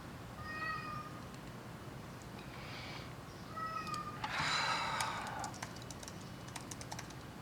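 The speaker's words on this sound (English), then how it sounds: "cat knows how to push my buttons" A cat meows several times in short rising calls, with one louder drawn-out cry near the middle, over light computer keyboard typing in an indoor workspace; no one speaks.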